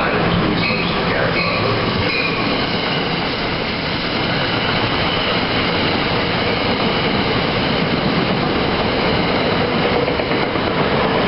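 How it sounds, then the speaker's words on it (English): An NJ Transit train rolls into Secaucus Junction station at night, making a loud, continuous rumble with steady rail noise and squealing wheels throughout. "Jersey Transit 654, bound train to Penn Station, New York, making stops at Penn Station, New York."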